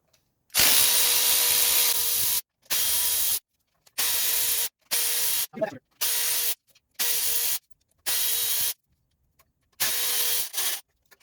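A power tool drives out the T40 hex bolts holding the intake manifold on a 1995 Mercedes E300, in about eight loud, close whirring bursts separated by short silences, with no voices.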